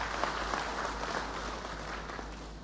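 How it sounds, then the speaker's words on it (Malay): A crowd at the Bagan Datuk district declaration ceremony in Perak gives thunderous applause, a thick, continuous wash of many hands clapping at an even level from start to finish. "Tepukan gemuruh untuk kedua-dua mereka."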